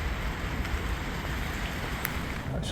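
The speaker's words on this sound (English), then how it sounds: "It's hardly stopped raining all night." Constant hiss of rain, fairly loud and even, with a low rumbling undertone and no speech.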